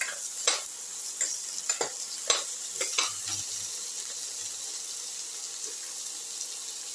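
Tomato pieces frying with ginger and shallots, salted in the pan, a steady sizzle interrupted by several sharp stirring scrapes early on, close and moderately loud with no talking.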